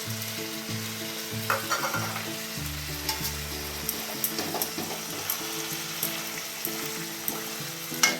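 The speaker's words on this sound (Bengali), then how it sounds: "এবার নারকোল আর কাঁচা লঙ্কা বাটা দিলাম" Coconut and green chili paste frying in a pan for a prawn dish with elephant foot yam stalks, a steady close sizzle broken by intermittent stirring scrapes, with no voices.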